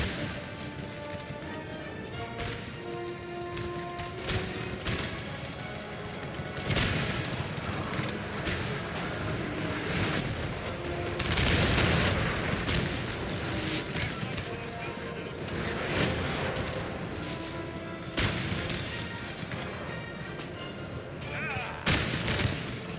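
Artillery in a Napoleonic battle of Napoleon Total War, a steady barrage of booms and crashes over a constant battle din, with a voice talking over it.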